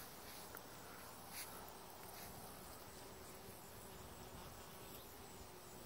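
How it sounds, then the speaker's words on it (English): Bees forage on a large aster flower in a garden, faint buzzing passing now and then over a quiet outdoor background with a steady insect hum. "Lots of bees on this one."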